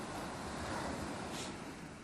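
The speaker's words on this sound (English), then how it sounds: "the rhythmical ebb and flow of the waves produces a pleasant mixture of noises" Ocean waves washing onto a beach in a video game, a steady continuous wash of surf with a brief brighter hiss near the middle, heard alone without voices.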